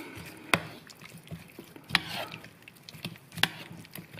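Lamb meat being stirred with salt, chili and pepper in a bowl, giving soft wet squelching with three sharper utensil knocks spaced about one and a half seconds apart, quiet and close.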